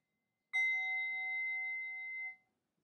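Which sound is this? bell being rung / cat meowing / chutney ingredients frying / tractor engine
bell being rung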